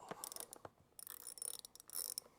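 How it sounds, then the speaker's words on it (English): A ratchet driver clicks quickly and faintly at close range while backing out T25 Torx screws on a Harley-Davidson Pan America motorcycle during a clutch install, with short bursts of rapid pawl ticking and small metallic taps between them. "Then you remove 3 T25 Torx screws,"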